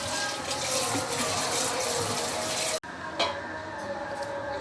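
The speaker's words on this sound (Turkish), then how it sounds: "Ayıklamış olduğumuz çileklerimizi bol suyla yıkıyoruz." Strawberries washed for jam under plenty of running water, a loud continuous rush that briefly cuts out and resumes with a small splash.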